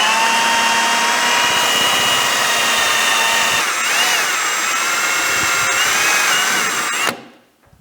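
A power drill with a 1/4-inch bit grinds steadily through the rivet heads on the end cap of a Honda CR500 two-stroke dirt bike, a loud continuous whine that shifts pitch midway and stops abruptly near the end.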